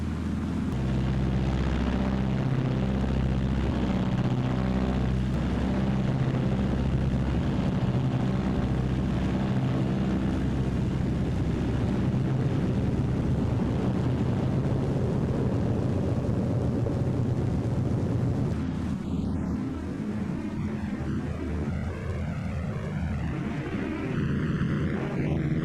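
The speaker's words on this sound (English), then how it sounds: "Notice the pronounced shuddering just before the stall." Propeller-driven Martin B-26 Marauder with flaps and landing gear down near 100 mph, a steady loud engine and airframe roar with throbbing, vibrating shudder before the stall, easing late on.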